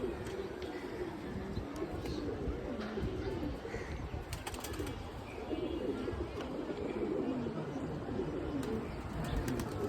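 Pigeons coo steadily over a dense, noisy background, with occasional fluttering and faint chirps mixed in.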